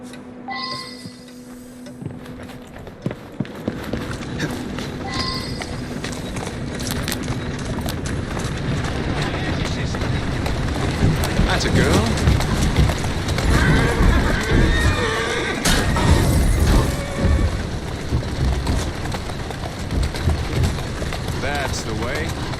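A horse in the video game Assassin's Creed Syndicate whinnies loudly and hooves clop over a dense, steady background of rumble and noise that runs throughout.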